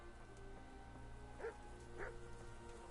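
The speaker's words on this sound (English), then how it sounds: "This guy's dog is barking at me." A dog in the medieval video game Kingdom Come: Deliverance gives two short, faint barks about half a second apart over a low steady game ambience.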